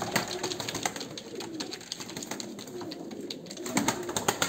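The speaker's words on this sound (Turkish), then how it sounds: "Kuşlar bunlar." Pigeons cooing in soft, repeated low calls over a steady outdoor background, with faint clicks and rustling throughout.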